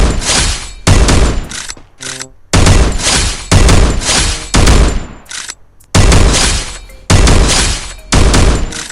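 Winchester gunfire in the Free Fire video game comes in loud, repeated bursts of heavy shots with brief gaps between them, close and punchy.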